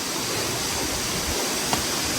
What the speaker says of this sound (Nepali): हामी झर्नामा फाइनल्ली